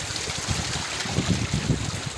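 Water of the Khadang river rushes and gurgles over stones at a spot in Gudvela block, Balangir district, a steady broadband wash with low bubbling pulses, fairly close and continuous.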